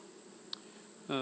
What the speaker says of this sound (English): just wanted to show you just how many bees are in this hive